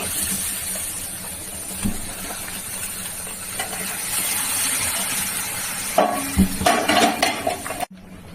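Country chicken curry with potatoes bubbling in a pot, heard as a steady hiss and simmer with faint scraping and stirring, then a few louder clanks of the pot and utensils near the end.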